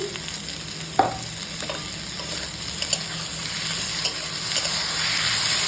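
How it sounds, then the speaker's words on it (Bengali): Cut potatoes go into hot oil with onions and fry in a pan, a loud, steady sizzle that opens with a sharp clink and continues with stirring scrapes. "এই যে কেটে রাখা আলুটা আমি এর মধ্যে দিয়ে দিচ্ছি"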